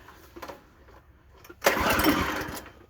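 A mini tractor engine on half choke is pulled over with a few quiet sputters and then catches, roaring up loudly and running steadily nearby.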